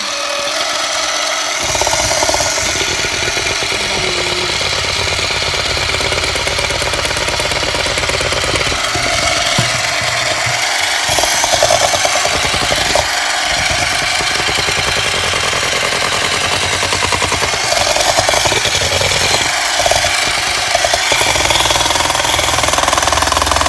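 An electric mixer churns banana cake batter with a loud, continuous whirring and rattling that runs steadily throughout, its pitch wavering slightly as the beaters work.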